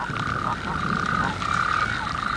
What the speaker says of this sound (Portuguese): Estes sapos de patas espalmadas do deserto do Arizona